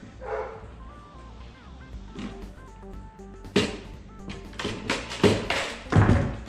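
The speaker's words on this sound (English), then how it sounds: "Yes, the dog's barking again." A dog barks repeatedly in irregular bursts, moderately close, mixed with occasional taps and thumps.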